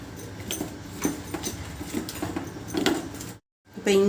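Fish fry marinade of lemon, spices and a little water being mixed by hand, a soft squelching and tapping at an uneven rhythm, close and fairly quiet, with a brief silent gap near the end.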